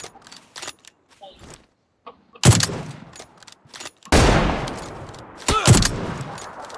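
Gunfire in the PUBG Lite shooter, with bursts of rapid shots and loud echoing blasts coming close together in the second half, while a player talks in the quieter gaps before.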